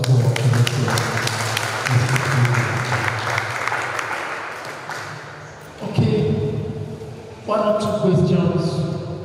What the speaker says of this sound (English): Ladies and gentlemen, once again, another round of applause for